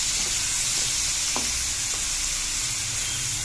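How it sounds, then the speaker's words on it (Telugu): Prawns fry in a pan with a steady, bright sizzle, broken by a couple of short scraping strokes as they are stirred; no voices. "ఇప్పుడు మనం రొయ్యలన్నీ వేసుకున్నామండి, వేయించుకుంటున్నాం. కాసేపు వేగకండి, ఇలా కలుపుకోవాలి."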